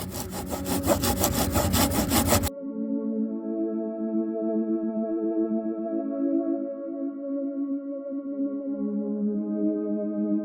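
Wood is cut with a hand saw at a camp in quick, rhythmic rasping strokes up close for about two and a half seconds, after which music takes over.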